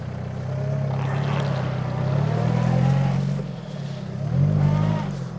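A Peugeot 306 engine drones close by as the car reverses while stuck in wet forest ground, its revs rising and falling steadily before a final surge.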